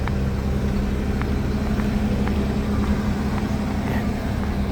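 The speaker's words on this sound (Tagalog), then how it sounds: "So ito yung bus na sasakyan natin." A bus engine idles in Italy as passengers board, a steady low rumble with a constant hum and faint periodic ticks, close and continuous, without talk.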